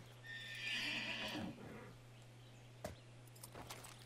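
A horse in the Far Cry 6 video game neighs in a short whinny, then a few faint hoofbeats follow over a low steady hum.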